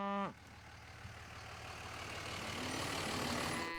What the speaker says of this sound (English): As the cows finally come off the highway and into their winter pasture.